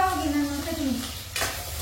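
Green chillies frying in a pan for egg rice, a soft continuous sizzle with a scrape of a stirring utensil partway through, heard close under a murmur of low voices.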